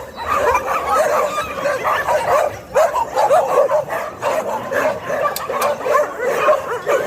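Many dogs at an animal shelter in Bečej, Serbia bark, yip and whine at once, a busy overlapping chorus close by with no pause.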